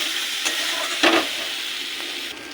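Ground spices frying in a pan for an egg and potato curry, a steady hiss of sizzling with a couple of brief scraping stirs, close and alone.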